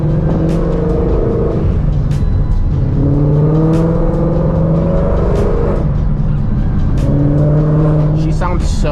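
A 2018 Mustang GT with a cold air intake revs repeatedly, throaty engine surges rising and falling loudly up close, while a voice talks over the rumble.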